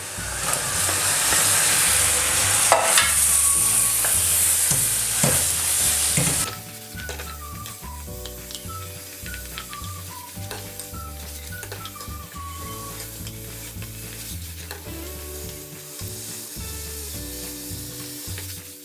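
Pork ribs and pineapple sizzle hard in a wok as the sauce reduces with a splash of white vinegar; the loud hiss drops away after about six seconds and music carries on alone.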